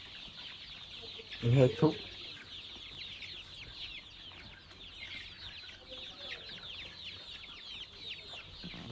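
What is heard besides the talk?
chickens clucking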